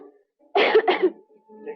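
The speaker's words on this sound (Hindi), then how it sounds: "आज बहुत खांसी आई थी।" A single short, harsh cough in two quick bursts, close and loud against a quiet background.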